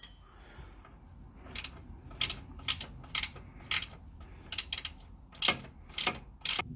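A spanner turns a front roll bar poly bush bolt on a Ford Mondeo Mk3, giving a quick series of sharp, close metallic clicks and ratcheting ticks in uneven bursts.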